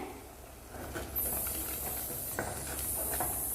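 Tomato, onion and ginger-garlic paste frying in oil for a crab masala gravy, a steady close sizzling hiss that grows louder partway through and keeps going without pause.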